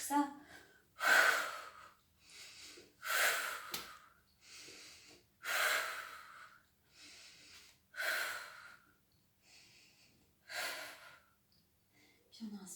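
Slow, deep breathing during a relaxation exercise, with long audible inhales and exhales repeating in a steady rhythm, close and fairly loud, with calm pauses between breaths.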